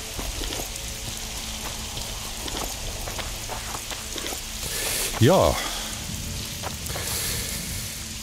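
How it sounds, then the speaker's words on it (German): Steady rain patters down throughout in The Witcher 2, a dense, even hiss close by, with a brief spoken word cutting in partway through. "Es regnet, der Gerald wird nass"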